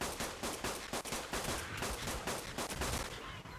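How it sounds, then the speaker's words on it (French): Pistol fire in the video game Ark comes as a quick run of sharp, close shots in an irregular rhythm, loud and with no talking over them. "C'est quoi ce pistolet tout moisi?"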